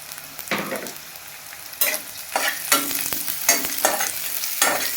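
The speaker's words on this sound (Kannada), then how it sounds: "ಈಗ ಹಸಿಮೆಣಸಿನ್ಕಾಯಿ ಹಾಕ್ತಾಯಿದ್ದೀನಿ ಹೀಗೆ ಕರಿಬೇವು ಸೊಪ್ಪು ಕೂಡ ಇದ್ದೀನಿ" Green chillies and curry leaves frying in oil for avalakki bath, a continuous crackling sizzle punctuated by several sharp scraping stirs of a spatula in the pan, close up and with no talking.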